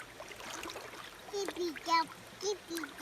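An infant splashes water while sitting in a shallow creek, with light splatters and trickling under soft child vocalizations and adult voices nearby.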